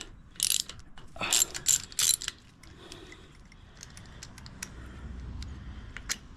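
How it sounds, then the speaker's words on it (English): A 5/8 socket ratchet clicks in a few short bursts while spark plugs are loosened on a 2019 Harley-Davidson Softail Slim, the sharp close pawl clicks followed by quieter handling noises. "Now I'm just going to take my 5/8 and we're just going to undo the spark plugs."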